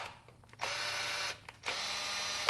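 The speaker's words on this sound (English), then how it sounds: "This is just a tap to make your screws screw in easier." A tap cutting screw threads into a PS4 controller shell makes two steady, close whirring bursts of under a second each, separated by a short pause, with no talking.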